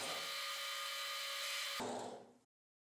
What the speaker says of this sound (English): I drilled multiple slots in all the three wooden base rings using my drill press machine.